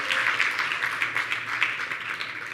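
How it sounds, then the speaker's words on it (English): Applause from a women's leadership conference audience, a steady wash of clapping at moderate distance, filling the short moment without any voices. "Clap for yourself."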